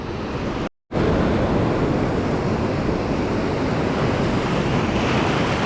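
Ocean surf breaks steadily near the cliff at the southern end of Wade Creek, a loud continuous wash of waves mixed with gusting wind on the microphone, after a brief dropout at the start, with no talking.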